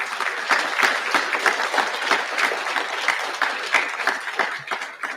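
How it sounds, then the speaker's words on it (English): An evening audience at a horse racing Hall of Fame induction breaks into a loud, steady round of applause, dense clapping filling the room without letup. "give one more round of applause for our inductees this evening"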